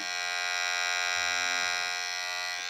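A Remington HC7170 Pro Power Titanium Ultra hair clipper runs close to the microphone, giving a steady, even electric buzz with a dense whine and no change in pitch throughout.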